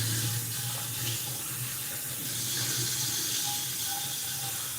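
Tap water runs steadily into a container being rinsed out in a home kitchen. The splashing and gurgling are continuous and fairly close, with no one speaking.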